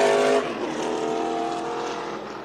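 A race car on the Kern County Raceway oval drives past, its engine roaring loud and close at first, then fading slightly into a steady, sustained drone as it moves down the track.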